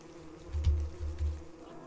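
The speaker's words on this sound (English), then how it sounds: "Oh, killer bees. Get away from me." Killer bees in the video game Don't Starve give a short, soft buzzing drone that swells and wavers in a few low pulses for under two seconds.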